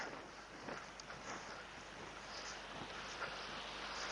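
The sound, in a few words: wind blowing into the microphone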